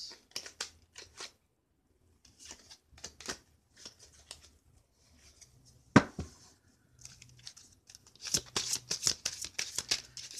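Oracle cards being shuffled by hand in close, quiet bursts of crisp riffling and flicking, with short pauses between handfuls and a denser flurry near the end.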